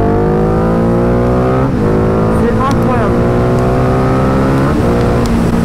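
Ducati Diavel 1260 motorcycle accelerating hard on a road exit, loud close engine roar with rising pitch sweeps through several gear changes under excited talk from the rider.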